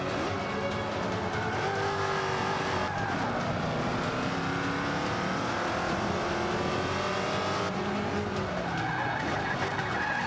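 Race cars roar continuously in Forza Motorsport 5 on Xbox One, with engines revving, tires squealing and skidding under braking, all loud and close throughout.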